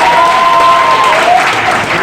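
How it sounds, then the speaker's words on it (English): Audience applause for a lineup of comedians at a live comedy show, a steady dense wash of clapping throughout, with a few faint whistle-like tones sliding over it and some voice mixed in. "give a round of applause for all the comedians"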